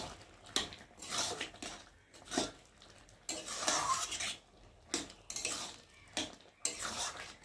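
Soybean curry with meat masala being stirred in a pan, a spoon scraping and clinking against the metal in repeated uneven strokes, with a soft wet squish and faint sizzling between them.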